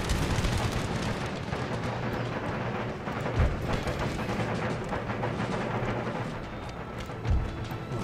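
Musket troops fire volleys at Swiss bodyguards in the Empire Total War battle game, a continuous rumbling roar of distant gunfire with a couple of sharper heavy booms standing out.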